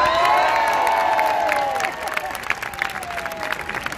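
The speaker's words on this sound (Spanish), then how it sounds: "¡Un fuerte aplauso!" Crowd at the Ricardo Tormo circuit in Cheste cheering and clapping, with loud whoops and a whistle-like call over the first two seconds, then scattered claps and crowd noise.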